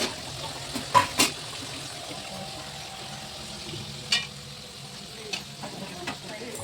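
Food frying and cooking in a pan, heard as a quiet continuous sizzle with a few sharp utensil clinks near the start and scattered taps later.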